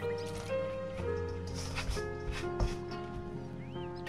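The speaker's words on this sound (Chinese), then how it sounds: "边加边搅拌" Flour, egg and room-temperature water are stirred into a shaggy bread dough, giving soft wet squishing and sticky smacking sounds close by, with music playing underneath.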